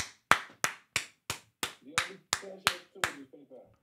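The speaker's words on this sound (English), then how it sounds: "Everybody clap it up, y'all." Hand clapping from an audience at a masterclass event, about ten sharp, close, evenly spaced claps in a steady rhythm, with voices faintly underneath.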